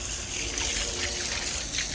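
Water trickles and splashes onto a black box fan, a close, continuous dribbling hiss lasting a couple of seconds with no talk.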